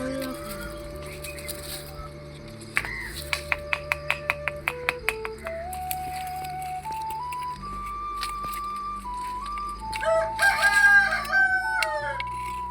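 Chickens cluck and a rooster crows in a village yard in Pakistan, a series of sharp calls ending in a louder, squawking burst, fairly close and with no talk over them.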